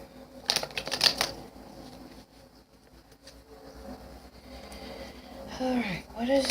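Tarot cards shuffled by hand, with a cluster of quick riffling, clicking bursts in the first second or so, then a quieter stretch and a faint voice near the end.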